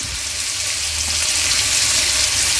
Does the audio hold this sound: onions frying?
yes